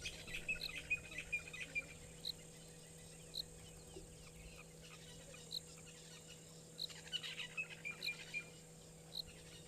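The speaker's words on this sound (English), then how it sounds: "Just gonna take a moment to listen to all of the beautiful birds." Wild birds chirp and call in short repeated bursts through a quiet natural outdoor setting, with a steady insect drone underneath and no talking.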